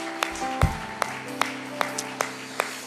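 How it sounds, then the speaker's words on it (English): A congregation claps hands during a church service, sparse sharp claps landing in a loose rhythm over a humming, sustained background tone. "Let's just clap our hands to Him today."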